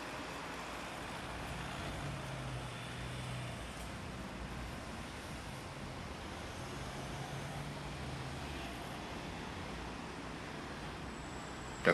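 A large truck rolls past on a road beside a protected cycleway at a Dutch intersection, a steady broad rumble mixed with ongoing traffic noise.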